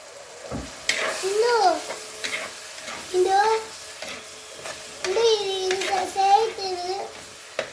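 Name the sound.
mint biryani ingredients sautéing in a clay pot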